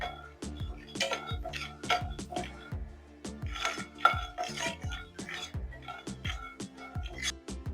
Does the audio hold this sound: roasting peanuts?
yes